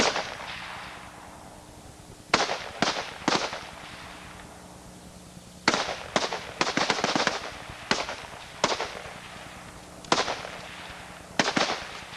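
M14 rifle shots ring out on a marksmanship firing line outdoors, sharp loud cracks in irregular clusters, some in quick doubles and triples, each trailing off into a brief echo between gaps.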